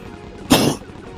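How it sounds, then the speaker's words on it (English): A man gives a single short, hoarse cough close to the microphone, with a quiet background before and after it. "Just excuse my coughing, I do apologise"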